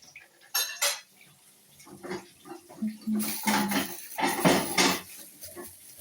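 Plates and cutlery clatter in bursts while a child sets out plates at home during cooking, the clinks and knocks irregular and close, with brief voices in between.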